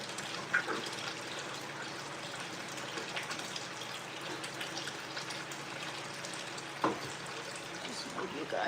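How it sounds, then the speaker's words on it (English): Water drains out of a tilted center column in a steady, moderately loud gush and trickle, with a couple of brief knocks along the way. "I'm angling the center column so that I can drain all the water out."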